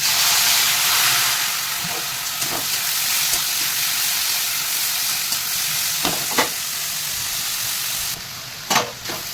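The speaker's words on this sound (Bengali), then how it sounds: "চিংড়ি মাছগুলো তেলের মধ্যে ছেড়ে দেবো" Turmeric-and-salt-coated shrimp frying in hot oil, giving off a loud, steady sizzle and hiss with a few stirring clatters, close up and without speech.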